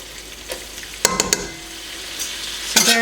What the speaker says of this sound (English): Once our butter's melted, we're going to add 2/3 cup flour, and we're going to whisk that in